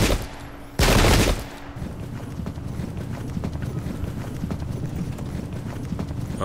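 Massed cavalry hooves drum in a dense, continuous clatter in the video game Pike and Shot Campaigns, opening with a brief loud burst like a gun volley, then a steady rolling gallop.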